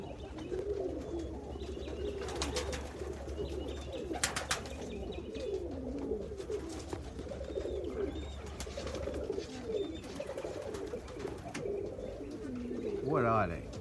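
Pigeons coo repeatedly inside a loft, soft rolling calls overlapping one another with occasional chirps and wing or perch noises in the background.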